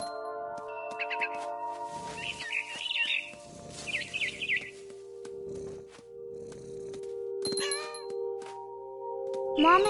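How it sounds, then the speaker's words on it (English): A barn swallow in What Remains of Edith Finch chirps in short repeated bursts of high twittering over a steady tonal music bed, with brief muffled thuds between calls. "Then I heard chirping outside my window. It was a barn swallow going back to her nest."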